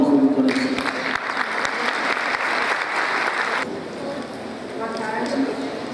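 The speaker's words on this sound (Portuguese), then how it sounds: "Uma salva de palmas para a doutora Luciane." Audience applause greets Dr. Luciane, speaker on self-medication, at a pharmacy-themed congress talk, a steady crowd of clapping hands swelling for a few seconds and then thinning out as her voice begins.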